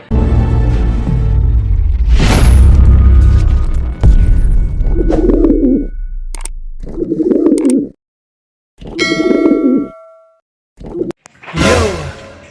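Breeder pigeons in a loft give several loud close bursts of throaty cooing and wing flutters, separated by short silent gaps.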